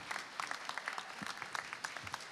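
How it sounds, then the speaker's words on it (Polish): Clapping from an audience at a Polish youth talent stage show, a steady patter of many hands with sharper bursts and a few louder claps near the front, continuing throughout without voices. "Brawa,"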